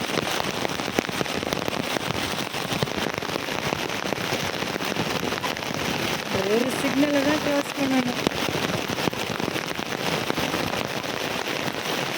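Steady rain pours down outdoors during a walk, a dense continuous hiss with wind buffeting the microphone and a brief voice partway through.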